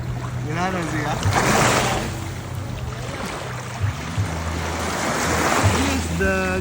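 Ocean surf rolls onto a beach at Mactan, a broad washing roar that swells and eases, with children and adults chattering and calling out over it.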